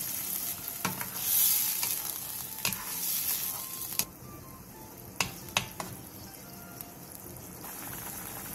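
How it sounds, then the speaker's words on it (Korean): Water, soy sauce and syrup bubbling hard with garlic over high heat in a pan, a continuous close sizzle and simmer hiss broken by a few sharp clicks and knocks. "물 1컵 반과 진간장 반컵, 물엿 3분의 1컵을 넣고 센 불에서 끓여주세요"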